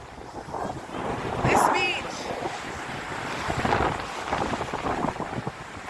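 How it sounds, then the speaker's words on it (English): Heavy ocean waves splashing at Hollywood Beach in Miami, a washing surf with swells of crashing water under strong wind buffeting the microphone, while someone talks over it. "you can see the waves splashing."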